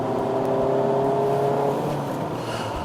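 A Citroen C4 with a 1.6-litre four-cylinder petrol engine and manual five-speed gearbox drives and accelerates, its steady engine drone and rising whir heard up close with no talking.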